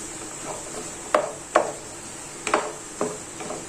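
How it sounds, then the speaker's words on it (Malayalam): A utensil stirs onion, ginger, garlic, green chilli and curry leaves in a pan, giving a series of scraping strokes at an uneven rhythm over a steady faint sizzle, with no talking. "ഇത് നല്ലതുപോലെ ഒന്ന് ഇളക്കി കൊടുക്കാം"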